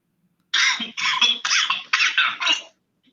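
A close, loud series of five or six rapid coughs in a quick burst, each harsh and wet-sounding, then silence.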